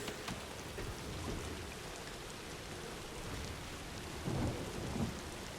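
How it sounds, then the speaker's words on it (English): Video game rain in Death Stranding 2: steady heavy rain hisses continuously while low thunder rumbles softly now and then underneath, even and enveloping. "Rain is bad for everything."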